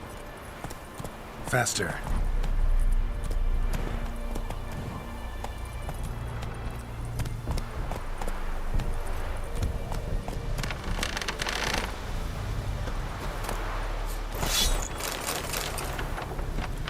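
Roach the horse gallops in The Witcher 3, hooves drumming in a steady running rhythm under continuous game ambience, with a rider's voice calling out now and then.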